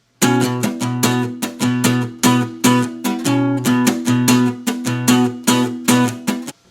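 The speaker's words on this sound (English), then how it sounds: "And now you can play the pattern, guitar and bass guitar combined" A pattern played on one guitar, combining guitar and bass lines: steady, rhythmic picked notes with a low bass tone under bright attacks, close and loud, continuing evenly for several seconds with no voices.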